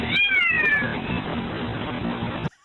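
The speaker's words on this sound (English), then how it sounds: "I heard a cat." A single drawn-out cat meow, close and fairly loud, with a falling pitch in its first second that then trails into a rough, noisy tail before cutting off abruptly.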